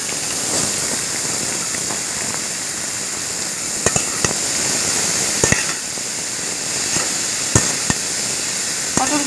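Small pieces of pointed gourd (potol) fry in a pan for a village-style potato and potol fry, a steady close sizzle and hiss broken by occasional sharp pops and spits.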